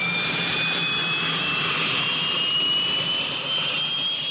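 A light aircraft's engine runs loud and steady as throttle is added in flight, a sustained roar with a high whine, continuous and close.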